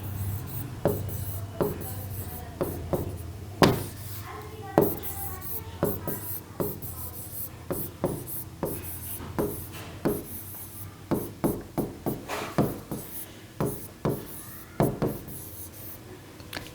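Chalk or marker writing on a classroom board during a zoology lesson, a steady run of short scratchy strokes and taps, close and moderately loud, with almost no talk.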